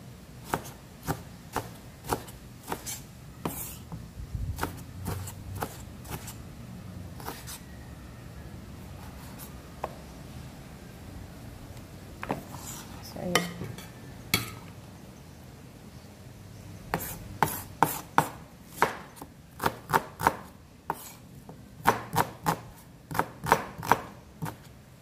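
A knife chopping tomatoes on a cutting board, following chayote prep: a series of close, sharp taps in irregular clusters, sparse at first and then quicker runs of knocks, with no talking.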